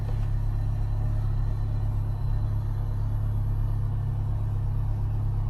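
A faulty car engine idling with a rough, misfiring rumble: a steady low drone close by that runs throughout, with no talking.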